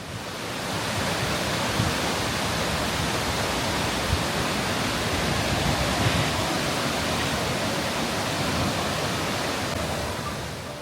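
The Marmore waterfall roars in a constant, dense, full-band rush of falling water, loud and steady throughout with no letup.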